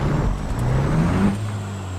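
Steady low drone of a truck engine in American Truck Simulator, a close, even hum with faint tonal shifts and no talk.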